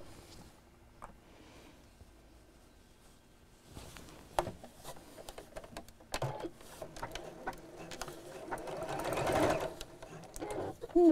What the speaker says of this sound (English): and just sew straight across